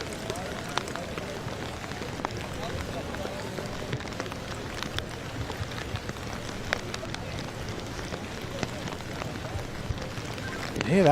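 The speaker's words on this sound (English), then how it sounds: "hear that rain? It is so heavy now" Heavy rain falls steadily on the course during an outdoor cross country race, a dense, even patter with scattered sharper drops, continuing for several seconds under faint background activity.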